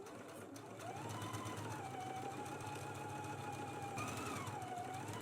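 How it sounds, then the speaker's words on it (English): A sewing machine stitches the side seams of a lined vest, with a backstitch at the start and end. After a brief pause its motor whirs steadily and close for several seconds, with a faint tone that rises and falls, and there is no talk. "So let's go ahead and stitch it now, back stitch at the beginning and the end."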